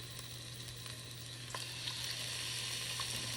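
Seasoned chicken pieces laid into a hot pan of olive oil sizzle and fry steadily, a continuous close crackle with a low hum beneath, growing slightly louder partway through.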